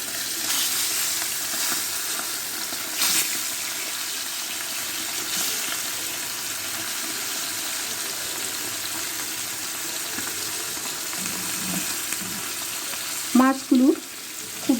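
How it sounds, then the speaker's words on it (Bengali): Pabda fish fry in hot oil with a steady, close sizzle that hisses without a break for a long stretch, ending in a few brief clattering knocks. "এবার কেটে ধুয়ে রাখা পাবদা মাছগুলো একে একে তেলের মধ্যে দিয়ে ভেজে নেব।"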